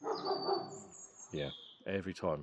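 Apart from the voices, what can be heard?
dog barking outside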